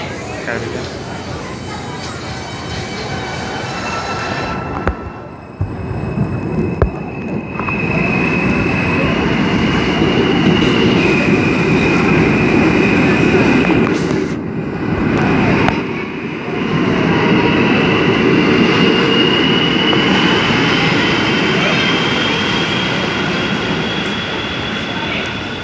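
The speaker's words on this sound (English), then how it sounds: "Let's watch this train leaving on track number." An R160 subway car set running as a Q train pulls out of 96th Street station with a loud motor whine and rumbling wheels that climb in pitch. People talk nearby over the departing train.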